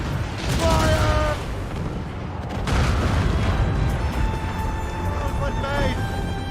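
Heavy booming ship cannon fire during a naval battle in Assassin's Creed Rogue Remastered, several loud blasts rolling into rumble, with shouted voices and game sounds between them.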